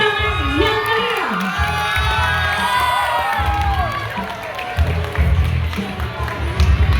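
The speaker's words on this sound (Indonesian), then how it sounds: "beri tepuk tangan yang meriah" Loud outdoor crowd cheering and whooping with scattered clapping as a junior high school team reaches the finish line of a marching race in Parepare, Indonesia, with shouted voices and excited calls mixed in throughout.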